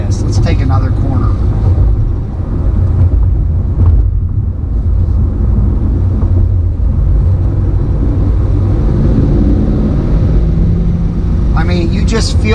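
A 2020 C8 Corvette rounds a corner with a steady, deep engine and road rumble from inside the cabin, while a person talks over it.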